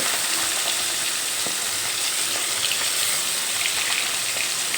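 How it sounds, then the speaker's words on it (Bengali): Pieces of rohu fish fry in hot mustard oil, producing a dense, even sizzle with scattered small pops and crackles, close up and steady throughout with no talking. "সর্ষের তেল খুব ভালোভাবে গরম করে নিয়ে এর মধ্যে এক এক করে মাছের পিসগুলো"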